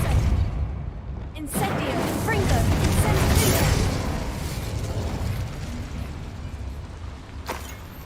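The Incendio fire spell in Hogwarts Legacy releases a loud, sustained roaring whoosh of flame lasting several seconds, with a sharp burst at the start and another near the end. A voice speaks over it.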